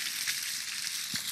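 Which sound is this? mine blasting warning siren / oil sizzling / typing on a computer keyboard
oil sizzling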